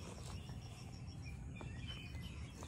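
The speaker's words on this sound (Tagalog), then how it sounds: "maririnig mo talaga yung huni ng ibon" Small birds chirp and trill faintly in the open air around a hillside overlooking cafe in Binangonan, Rizal, with scattered distant calls over a soft, steady outdoor hum and no talking.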